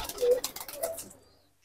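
Malwai pigeons give a short, soft coo or two close by, and the sound fades quickly into quiet.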